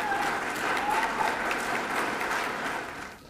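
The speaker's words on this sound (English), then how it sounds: "please stand and let us applaud you for another outstanding year" Audience applause at a community college GED graduation ceremony honors administration and staff, a continuous wash of many hands clapping at moderate distance, fading slightly toward the end.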